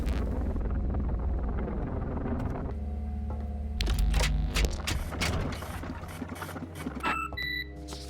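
In a digging video game, a large drill machine restarts with a deep, continuous mechanical rumble that swells and shifts, joined by clanks and a few electronic beeps toward the end.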